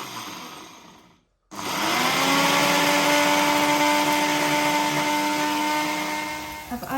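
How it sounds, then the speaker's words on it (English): An electric grinder whirs through spices for dal in a home kitchen, a loud steady motor whine starting abruptly after a short pause and running continuously for about five seconds. "I'm going to give this a quick grind so I've got something to add to the dal"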